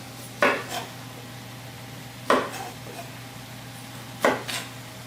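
A knife cuts through fibrous ginger on a board, trimming it square: three separate crisp cutting strokes about two seconds apart, each a short sharp crunch followed by a brief scrape, set over a steady low hum.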